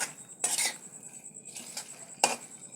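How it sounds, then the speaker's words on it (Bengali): Spices for a soji kochu (taro) curry are sautéed in a pan, heard as quiet intermittent scraping and metallic clinks of a spatula against the pan over a soft background hiss. "মশলাটা দিয়ে একটু কষিয়ে নেব।"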